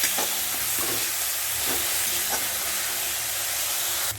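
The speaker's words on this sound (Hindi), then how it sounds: "तो अभी हम डालते हैं ये जो पेस्ट किया हुआ ऑनियन, ये हम डाल देते हैं। तो ये भी हम अच्छी तरह भून लेते हैं।" Onion paste fries in a pan for a prawn coconut curry, giving a steady close sizzle with occasional stirring scrapes.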